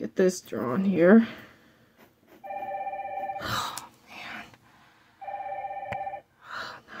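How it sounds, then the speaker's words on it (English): A telephone rings indoors in two electronic bursts about a second long, separated by a pause, with a person talking and moving around between them. "That was just a phone call."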